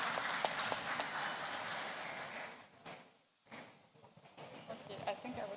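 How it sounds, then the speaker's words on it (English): Conference audience clapping for a panelist, a dense, steady patter that fades out partway through, with a voice speaking over it and continuing after. "Please, also, you can clap for him again."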